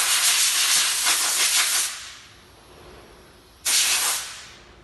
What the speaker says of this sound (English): Just blow the air filter from the inside out. And just blow the foam off.